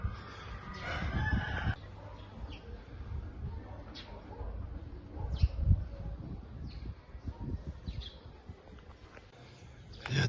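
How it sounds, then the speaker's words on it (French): Roosters crowing in the countryside near Baguio, faint and distant, heard over a quiet outdoor background with low wind and occasional movement noise. "C'est silencieux, on entend juste les coqs."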